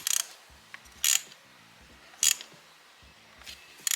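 A ratchet tool snugs down a spark plug in a Porsche Cayenne engine, giving short bursts of sharp clicking in four spaced rounds, close and clear with no talk.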